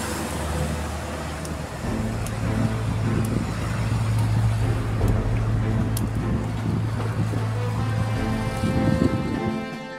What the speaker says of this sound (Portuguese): Passam os dias, passam os carros pela via